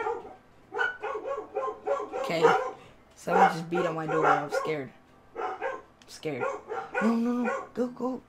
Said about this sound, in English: I'm sorry for the dogs barking in the background.